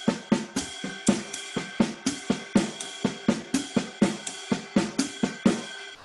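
Brushy jazz drumming in a classic comping pattern with cymbal rides and snare accents in a steady swinging rhythm, no bass drum, played close and alone.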